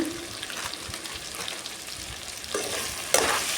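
Potato masala with turmeric and chicken masala powder gets stirred in a pan, soft scraping and sizzling strokes repeating close by, with a sharper clatter of the spoon near the end.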